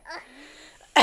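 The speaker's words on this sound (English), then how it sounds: "Please don't cough into the mic." A single short cough close to the microphone, a brief throaty burst ending with a loud blast of breath on the mic.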